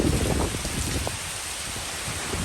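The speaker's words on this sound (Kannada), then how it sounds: "ಮಳೆ ನೋಡಿ ತುಂಬ ಜೋರುಂಟು." Heavy rain pours down in a steady, dense hiss, with louder splattering near the start before settling into an even downpour.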